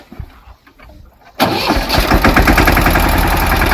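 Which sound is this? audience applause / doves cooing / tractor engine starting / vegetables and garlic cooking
tractor engine starting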